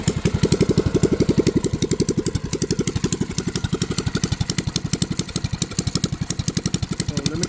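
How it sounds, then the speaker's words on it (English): A mini bike's small engine idles alone up close, a loud steady rapid putter with an even, unbroken pulse throughout. "So that's just idling right now."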